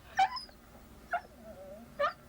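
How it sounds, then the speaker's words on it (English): A dog named Lester barks three short, sharp times, each about a second apart, at moderate distance, with a faint whine between the barks and no voices. "Lindsay, Lester's barking again and getting on my nerves again."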